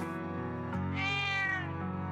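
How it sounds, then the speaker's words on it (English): A cat meows in the Trails of Cold Steel II video game, one drawn-out, rising and falling call heard clearly over steady game music. "Oh, hi, kitty."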